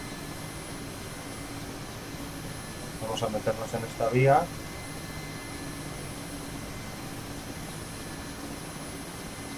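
A steady, droning engine hum from a Mi-8 helicopter taxiing on the ground in the DCS flight simulator runs throughout, with someone speaking briefly partway through.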